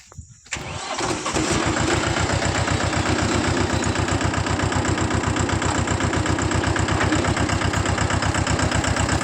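A tractor engine cranks and starts, then settles into a loud, steady diesel chugging with a fast, even pulse, close by, during weeding in a cotton field.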